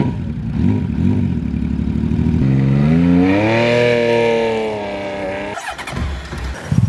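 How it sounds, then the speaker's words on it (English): A Honda CBX motorcycle engine fires up close by, cranking briefly before catching and climbing into a smooth, rising rev that holds and settles, ending with a sharp mechanical clack. "If you've never heard a Honda CBX firing up,"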